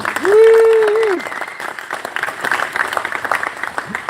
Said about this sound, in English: Can we give a round of applause to Ryan Burns?